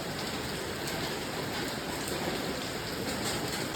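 Rain falling steadily outdoors, a constant dense hiss of drops with no pauses, fairly faint and even throughout, with no voices.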